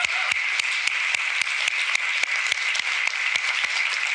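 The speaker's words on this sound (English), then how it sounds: "please ask everyone to give Mr. Bork Dude a big round of applause" Audience applause after a Clojure conference talk, a dense steady patter of many hands with a few sharp, louder claps standing out at a regular pace, heard close and alone with no speech.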